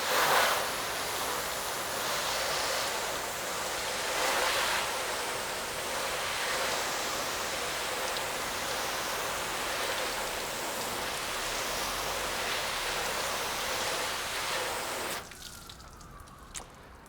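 Steady, loud spray of water rinsing a car's paint after a comparison of Auto Magic paint sealant and Meguiar's Pro Hybrid Ceramic sealant, running continuously for about fifteen seconds before cutting off abruptly to near quiet.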